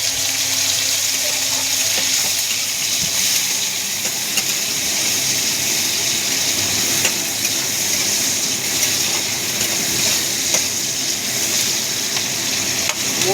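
Prawns fry in hot oil in a kadai for a chicken curry, giving a loud, unbroken close-up sizzle and crackle with faint stirring and no talk.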